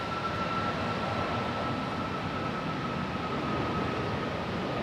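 Southwest airliner at Raleigh-Durham International airport in stormy weather, a steady, fairly distant broadband engine roar with a faint constant whine, holding even throughout with no talk.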